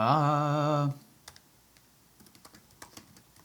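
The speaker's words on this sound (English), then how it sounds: "Maybe I'll just type it." A short run of light keyboard clicks on a computer keyboard, scattered and irregular, quiet and close, follows a loud steady tonal hum that cuts off abruptly.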